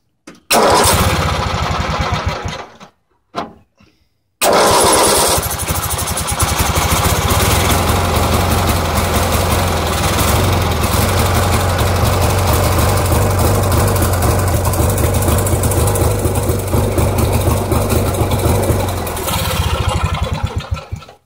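Dynamark lawn mower engine cranks in two short bursts, stalls into silence, then fires up and runs steadily at close range, a loud continuous droning idle that holds to the end.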